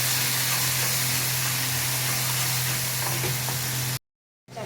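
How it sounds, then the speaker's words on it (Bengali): Cumin, coriander and turmeric powders fry in a pan for a fish curry, giving a loud, steady hiss and sizzle without a break for about four seconds before it cuts off abruptly, with no talking. "এরপরে একটু জিরে গুঁড়ো আর এই ধনে গুঁড়ো দেবো, আর দেবো হচ্ছে অল্প একটু হলুদ গুঁড়ো দিয়ে মশলাটাকে ভালো করে কষাবো।"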